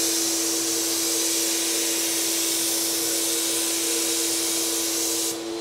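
A spray gun applying finish onto a wooden table gives a continuous, loud, steady hiss with a constant whining tone underneath, held for several seconds before cutting off abruptly at the end.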